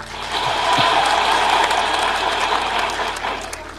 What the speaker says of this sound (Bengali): আমাদের উচ্ছ্বাসের জন্য একটা জোরে হাত তালি দিই